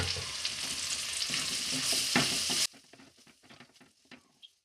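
Okra masala with coriander powder and garam masala being stirred in a frying pan, with loud sizzling and scraping for a few seconds before it drops to quiet scattered clicks and taps.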